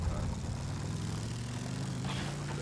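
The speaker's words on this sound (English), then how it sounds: "That's a plane." A propeller plane engine in the World War I shooter Battlefield 1 drones steadily and loudly throughout, a thick continuous rumble with faint battle noise underneath.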